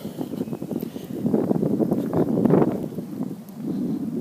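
Gusty outdoor wind buffeting a handheld microphone on a university campus, a steady low rumble that swells and dips in uneven waves for several seconds with no talk over it.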